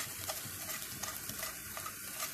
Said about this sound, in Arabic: داك اللب قطعتو دوك راني نكرازي فيه بالفشيط